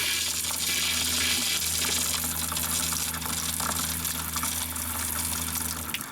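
Water gushes steadily from an opened tap, a loud, continuous rushing stream close by with a faint hum beneath and no talking.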